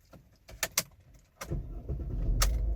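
A Mercedes-Benz W204 is started with its existing key: a few sharp clicks and key or switch noises, then the engine cranks and catches into a steady low idle that builds and holds close by.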